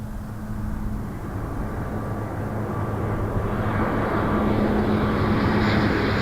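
A jet airliner takes off from runway 06 left at Toronto Pearson, a loud, steady engine roar that builds over several seconds and holds a low droning hum, with no voices.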